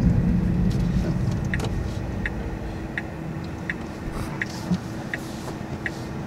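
Steady road noise inside a moving Tesla Model 3, a low, even rumble with a faint regular ticking over it, all at a fairly quiet level and with no talk.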